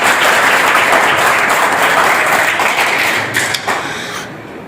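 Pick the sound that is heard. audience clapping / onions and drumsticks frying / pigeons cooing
audience clapping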